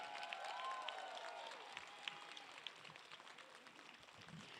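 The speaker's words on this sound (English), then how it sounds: "I ask that everyone give a round of applause for these incredible students with" Audience applause for students with perfect attendance at a 2021 graduation ceremony: sustained, moderately distant clapping from a crowd with a few cheers and whistles mixed in, steady throughout.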